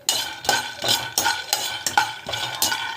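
A spoon stirs a protein laddu mixture in a bowl, scraping round in steady, even strokes, about two each second, close and distinct with no talking.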